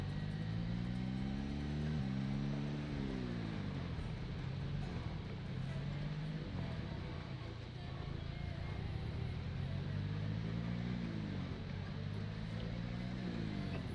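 A car in the Project Zomboid video game drives on with a steady engine drone whose pitch climbs and drops through gear shifts, heard continuously and fairly faint.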